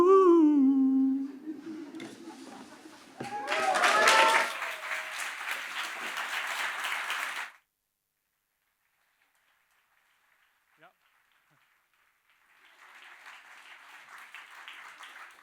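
Audience applause in a lecture hall, a burst of clapping that swells for a few seconds and cuts off, with a speaker talking just before and a second softer round of clapping near the end.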